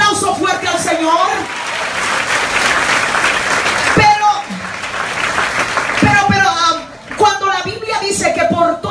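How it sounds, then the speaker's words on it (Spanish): A church congregation applauds during a sermon, a loud burst of clapping mixed with cheering voices that dips briefly and swells again, with some talk and shouting woven through. "Dale un aplauso fuerte al Señor."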